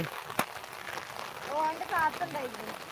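Heavy rain falls steadily, a dense close hiss that runs throughout while a person talks over it.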